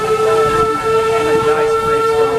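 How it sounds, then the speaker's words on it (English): Steady rumble of a moving train interior with a sustained high tone running throughout, continuous and fairly loud. "I'm on a train right now."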